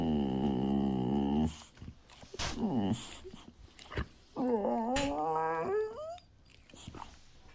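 A puppy whimpers in long, high, wavering whines, with a short growl in between. The cries are close and fairly loud, separated by brief pauses.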